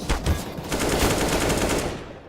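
Rapid AK rifle fire from a Counter-Strike match rattles in a dense, loud automatic burst that trails off at the end.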